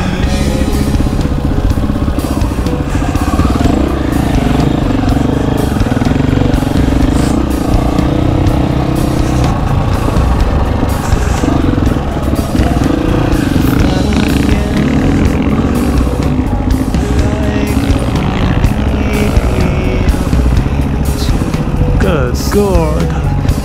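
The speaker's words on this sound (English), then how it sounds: "run over me with this fucking big Husqvarna" A Husqvarna FE 501 motorcycle engine runs loud and close the whole time, with rough, continuous revving. Voices talk over the engine noise.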